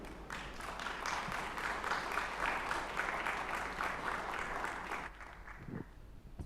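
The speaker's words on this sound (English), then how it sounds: "I think the applause more than well merited" An audience at the Ideas of India Summit 2025 gives Pico Iyer steady, full applause after his talk, holding for about five seconds before quickly dying away.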